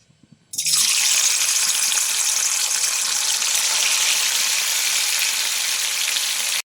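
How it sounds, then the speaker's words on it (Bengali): Amudi fish dropped into hot oil in a pan, bursting into a loud, steady crackling sizzle after a brief quiet moment and holding strong until it cuts off abruptly. "এবার আমি একে একে মাছগুলোকে দিয়ে ভাজবো"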